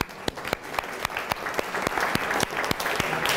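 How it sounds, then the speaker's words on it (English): An audience at a lecture claps, many hands together in a moderate, steady burst of applause that holds for a few seconds. "Let's give an applause."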